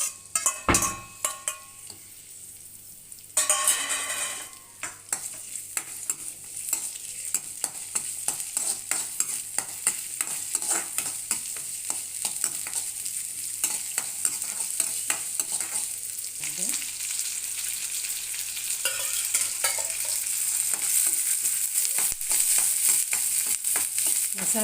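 Onions hit hot oil for chicken bassaru, and a sharp burst of crackling gives way to a steady, close sizzle. Occasional spoon scrapes and clinks against the pot sound over it.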